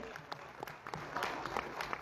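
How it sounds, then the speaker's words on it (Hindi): Quiet, steady audience applause at a business talk in Nepal, a continuous patter of many hands with scattered sharper claps, heard faintly throughout. "एक बार जोरदार ताली हो जाए यार"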